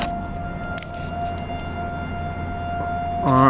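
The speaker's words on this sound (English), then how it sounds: "It sounds like we have an emergency siren going off at" A steady siren tone holds throughout, faint and distant-sounding, with a louder warbling burst rising near the end.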